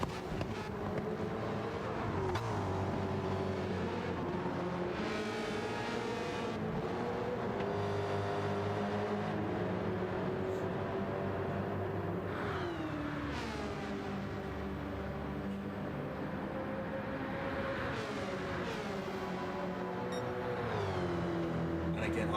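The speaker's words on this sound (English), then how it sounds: "I could just listen to that car all day long. It sounds absolutely amazing, that Dodge Challenger." In a V8 Supercars racing game, a Dodge Challenger V8 engine drones steadily for the whole stretch, its pitch climbing through the gears and dropping on shifts, with a voice talking faintly underneath.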